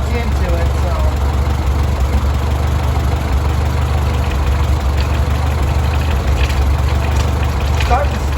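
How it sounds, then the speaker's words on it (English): Oliver Super 55 tractor engine running low on hydraulic fluid, a steady loud low idle rumble with faint uneven sputter, people talking over it. "It's already starting to sputter a little bit."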